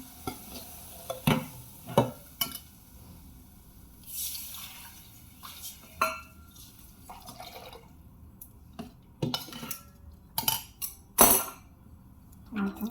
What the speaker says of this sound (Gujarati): તો આપણે વઘાર હમણાં નાખી દઈએ મગનો